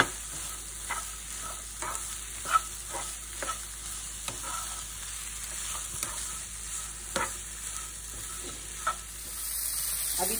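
Onions frying with salt for aloo sabji give a soft, continuous sizzle with regular quiet stirring taps, fairly faint and with no speech.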